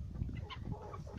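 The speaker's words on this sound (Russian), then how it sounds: "Посадил я в общий курятник с большими курицами их." Young three-month-old Lohmann White chickens cluck and chirp in a shared coop with larger hens, several close, overlapping calls over a low, busy background murmur.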